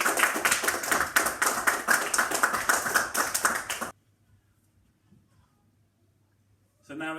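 Audience applause at a 2020 school awards celebration, a dense burst of clapping for about four seconds that cuts off abruptly into near silence, then resumes faintly at the end.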